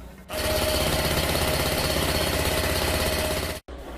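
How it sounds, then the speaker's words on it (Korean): Pile-driving construction machinery works at night beside a railway line, giving a loud, steady mechanical drone with a rapid rhythmic pulse that runs continuously before cutting off abruptly near the end. "밤마다 땅에 말뚝을 박는 공사는 계속되고"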